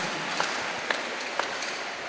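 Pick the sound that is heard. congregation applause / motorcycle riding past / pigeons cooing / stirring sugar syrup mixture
congregation applause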